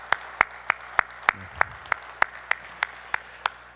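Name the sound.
church congregation applauding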